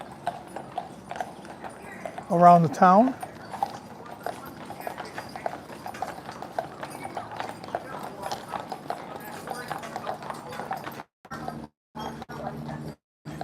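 Horse hooves clip-clop on a street as carriages roll through Mackinac Island, a steady trotting rhythm with a louder close pass partway through, mostly under ongoing talk.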